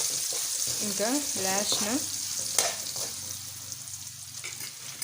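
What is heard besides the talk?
chillies sizzling while frying for lemon rice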